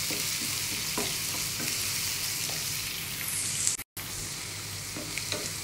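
Onion and garlic frying in a pan for a Bengali masoor dal dish, giving a steady, close sizzle with faint stirring scrapes throughout and a brief drop-out near the end.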